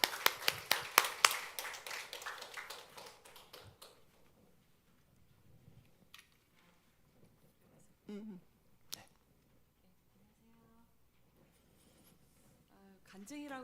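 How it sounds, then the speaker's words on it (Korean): A church seminar audience claps rhythmically to welcome a deacon to the front. Loud, crisp claps dominate the first few seconds, then fade out into near silence broken by brief shuffles and short bits of speech. "우리 백정숙 집사님 나오실 때 박수로 환영하겠습니다"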